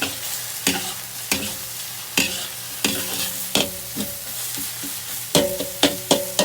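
Mie goreng, Indonesian fried noodles seasoned with soy sauce, sizzles in a pan while a utensil stirs it in repeated, rhythmic scraping strokes over a constant frying hiss, loud and close, with no speech.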